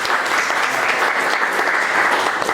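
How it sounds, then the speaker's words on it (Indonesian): Applause from a group of vocational students in a classroom after group presentations, a steady dense clapping roar, loud and close, with no voices. "Tepuk tangan untuk kita semua."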